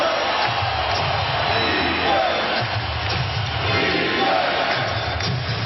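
A basketball arena crowd murmurs and roars steadily during an NBA Finals game between San Antonio and Cleveland, a dense, continuous wash of voices with occasional shouts swelling beneath the din.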